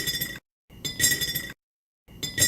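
Three bright glassy clinks from a household object used as a ride cymbal sample, each a short ringing hit with sharp silences between, close and fairly loud.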